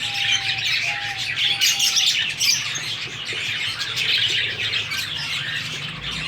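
Breeding pet birds kept in nesting pots chatter nonstop, a dense, steady wash of close chirps and squawks with no voices.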